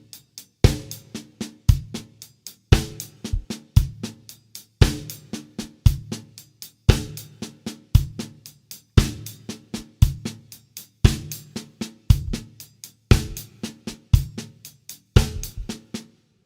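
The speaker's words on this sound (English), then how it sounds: "if we put the bass drum and crotchet beats 1, 2, 3, 4, it would sound something like this" Drum kit laying down a basic funk groove of snare, hi-hat and bass drum on crotchet beats, a steady repeating pattern played alone, close and punchy.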